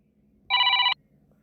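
A single short electronic telephone ring, a bright tonal burst of about half a second, loud and close against a quiet background with no talking.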